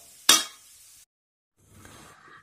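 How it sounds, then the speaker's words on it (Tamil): Cooked rice is stirred into sautéed gooseberries in a pan, with one sharp scraping stroke followed by a short faint sizzle, a pause, and then softer stirring at close range. "இப்போ வந்து ஆறின சாதத்தை வந்து நான் இதில் போட்டு கிளற போகிறேன்"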